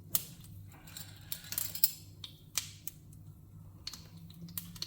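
Mustard seeds splutter in hot oil with a little salt in a pan, giving irregular sharp pops and crackles, some close and loud, scattered over a low kitchen hum.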